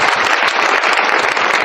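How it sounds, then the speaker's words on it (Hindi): A hall audience claps loudly for achievers at a business event, a dense, continuous round of applause close by. "एक बार जोरदार तालियों की"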